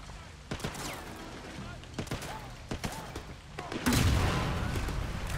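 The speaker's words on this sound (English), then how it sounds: "I get to finally use explosives!" Grenade launcher explosions in the video game Sleeping Dogs: a run of sharp, booming blasts, with a heavier, sustained rumble near the end, over constant game noise.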